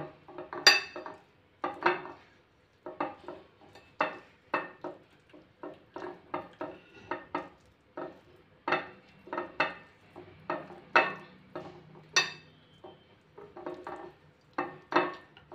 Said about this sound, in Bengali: হলুদ আর লঙ্কা গুঁড়ো দিয়ে শুকনো শুকনো লাগছিল, তেল দিয়ে আরও ভালো করে মেখে নেব।